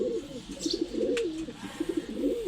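Low, rolling pigeon coos repeat steadily nearby on a home balcony, soft and continuous with no talking.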